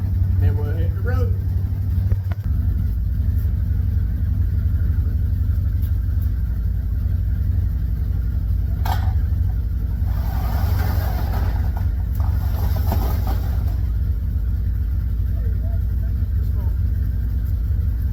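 Pickup truck engine left idling on a cool morning before hooking up a trailer, a steady low rumble throughout, close and continuous, with brief shuffling and clunking noises over it.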